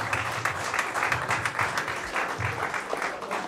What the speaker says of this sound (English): Another round of applause for Chris Higgs.